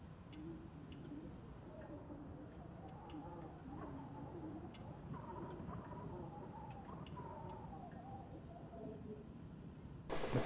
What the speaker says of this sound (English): What the heck is that clicking noise?